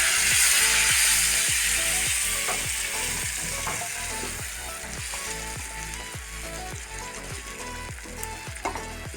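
Ground paste blended in a mixer hits sautéed tomatoes in a pan for tomato kurma, bursting into a loud sizzle that settles into steady frying hiss, with rhythmic scraping stirs repeating throughout, close and without talk.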